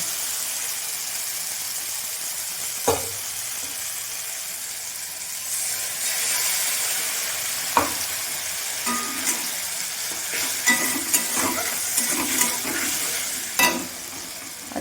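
Black cumin and spice paste fry in a pan, giving a steady close sizzle and hiss with a few sharp pops and scraping stirs toward the end, no talk.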